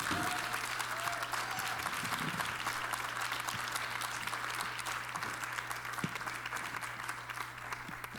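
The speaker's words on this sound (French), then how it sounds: "je pense qu'on peut les applaudir." An audience applauds steadily after readings at a public question session, a dense, sustained wash of many hands clapping from start to finish, with a low steady hum underneath.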